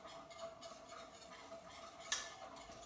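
A whisk twirls through thickening white sauce in a pan over medium heat for chicken pot pie, giving faint, soft scraping and stirring sounds with one brief sharp clink near the end.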